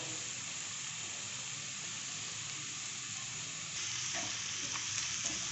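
Onions frying and sizzling steadily in a pan while making palak paneer, a continuous broadband hiss with occasional stirring clinks, slightly louder toward the end, no talking.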